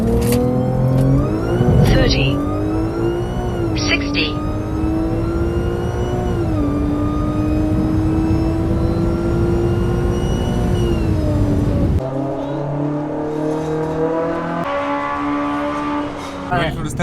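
A Roush supercharged Mustang or dual-pulley Audi S4 accelerating hard down a drag strip, its loud engine note climbing steadily, then an abrupt gear shift at the change into second before the pull resumes, with voices talking over it.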